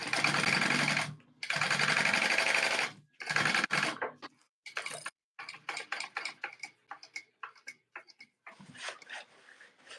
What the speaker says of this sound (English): I'm sewing the sides and bottom